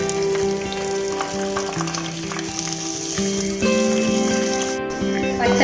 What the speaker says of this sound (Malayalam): പച്ചപ്പ് മാറുന്നോടെ വരെ നമുക്കിതൊന്ന്